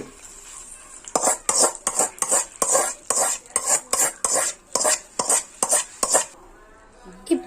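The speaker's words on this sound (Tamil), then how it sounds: "இப்போ இந்த தாளிப்பை மாங்காய் கூட்டா கூட ஆட் பண்ணிக்கலாம்." A spoon scrapes and clinks against a metal pot as tempering is stirred into mango curry, about a dozen quick rhythmic strokes, close and clear, with no voices.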